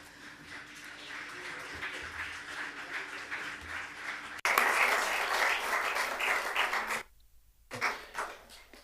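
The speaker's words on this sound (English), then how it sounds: "I understand that this applause is also for me" Audience applause at a conference session on Europe's climate and energy challenge: steady, dense clapping that swells louder midway, cuts out briefly, then resumes more sparsely.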